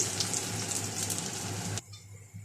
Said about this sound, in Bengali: এই যে পেঁয়াজটা একটু বাদামি করে ভেজে নিব